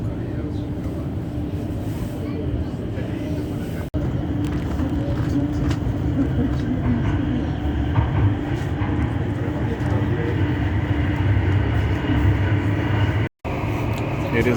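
Steady interior rumble of a commuter train riding from Delft to Rotterdam, with constant low wheel and track noise, a brief drop in sound near the end and voices murmuring underneath.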